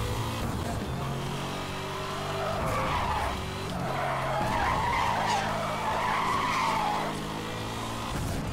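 Tires screech in a long, steady drift in the Need for Speed Hot Pursuit Remastered racing game, with loud engine drone beneath and the squeal swelling and easing over several seconds and no talking.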